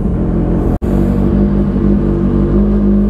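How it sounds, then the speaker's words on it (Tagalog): An inline-four car engine warming up, idling steadily with a deep, loud rumble and a brief dropout, heard up close with no talk. "Iba rin talaga yung tunog ng inline 4 eh"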